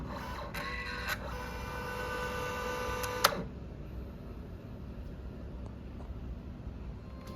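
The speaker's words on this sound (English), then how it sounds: "it feeds it in through the back, and now it's printing" An HPRT wireless photo printer pulls paper in through the back and prints with a steady close mechanical whirr, which ends abruptly with a click about halfway through, leaving quiet room tone.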